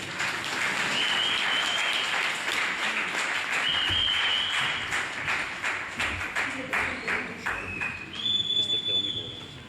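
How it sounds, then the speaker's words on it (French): Audience applause welcoming a speaker at a regional launch event, a loud sustained wash of clapping with scattered whistles and cheers, voices mixed in throughout. "Avec cet applaudissement, s'il vous plaît"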